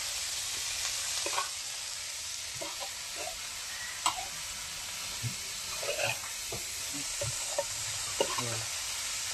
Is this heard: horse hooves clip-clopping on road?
no